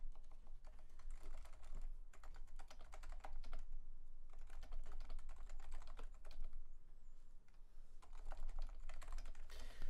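Typing on a black Leopold FC660C with silent Topre switches, a steady run of soft, muted keystrokes that goes on through the whole clip. Only brief pauses break it, under a low background hum.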